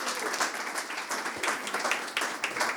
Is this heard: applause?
yes